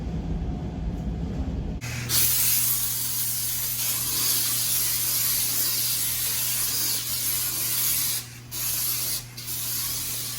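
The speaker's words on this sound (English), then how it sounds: "Get some spray stuff right here." A cleaning spray hisses steadily for several seconds in a high-rise apartment, a continuous loud spray with brief dips near the end and no talking.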